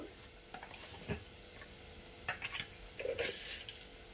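Spice paste with a little water, salt and sugar sizzling and being stirred in a pan for a Bengali-style vegetarian paneer kalia, with faint frying crackle and soft intermittent scrapes of a spoon, no talking.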